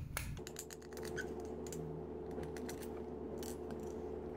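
A screw being turned out of a tape measure case makes close, quiet clicking and ratcheting ticks in quick irregular bursts after a brief thump at the start, with no talking.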